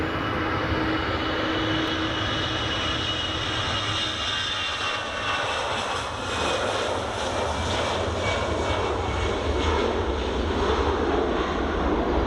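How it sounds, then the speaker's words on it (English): An EasyJet airliner takes off from runway 24 at Edinburgh Airport, its engines giving a loud, steady roar that stays broad and constant throughout and carries a faint whine. "EasyJet just departing now."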